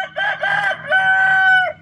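A rooster crows loudly and close by in a backyard chicken flock, its long harmonic call running unbroken for nearly two seconds, with no voices.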